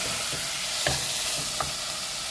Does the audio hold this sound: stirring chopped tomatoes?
yes